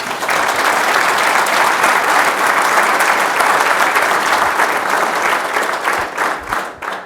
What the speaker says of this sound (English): I'd love to give them a round of applause if you don't mind.